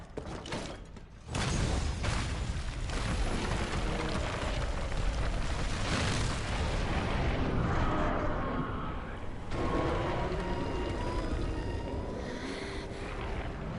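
A massive Dragonator cannon in Monster Hunter World unleashes a deep, roaring mechanical blast that rumbles on heavily for several seconds, with grinding, creaking machinery underneath.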